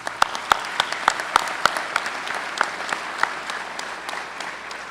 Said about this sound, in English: I just want to give you guys a round of applause for all that you guys done